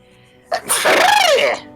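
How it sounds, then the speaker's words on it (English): A single loud human sneeze, close and sharp: a quick inhaled catch followed by a long, forceful burst that trails off, heard on its own. "What kind of sneeze was that?"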